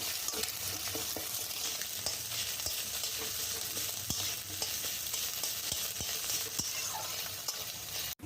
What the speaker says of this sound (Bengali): ডিমটাকে ভালো করে নেড়ে চেড়ে নেওয়া হচ্ছে